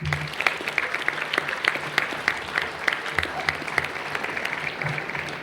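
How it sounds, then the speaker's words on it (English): Audience at an Interboro school hall of fame induction ceremony giving a round of applause, steady crowd clapping filling the room at moderate distance, with a little murmured talk. "So one last round of applause for our current Hall of Fame members."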